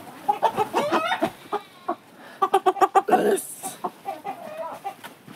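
A rooster clucks in close, uneven bursts, with a quick run of sharp clucks in the middle before the calls trail off.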